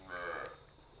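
A Gir cow gives a single short moo, a moderate call that fades quickly into quiet farmyard background.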